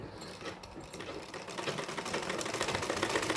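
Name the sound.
sewing machine stitching a dress bodice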